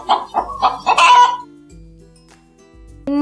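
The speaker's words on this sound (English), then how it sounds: "Hen. Hen." A hen clucks several times in a quick, loud burst, then falls quiet; a low steady hum continues underneath and a new sound begins abruptly at the end.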